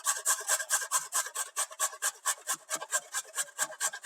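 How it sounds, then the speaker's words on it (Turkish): Raw unboiled beets being grated on the large holes of a coarse grater: a steady run of close rasping strokes, about five per second, rhythmic and alone with no talking. "Pancarlarımızı hiç haşlamadan sadece biraz yıkayıp hemen rendeliyoruz."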